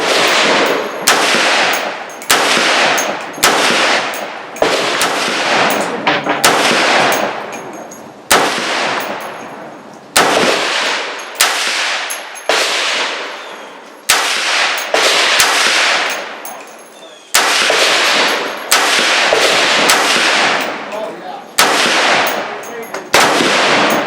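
A Bear Creek Arsenal 350 Legend rifle is fired about twenty times in a steady series of loud, sharp reports, each with a ringing decay, spaced roughly a second apart outdoors.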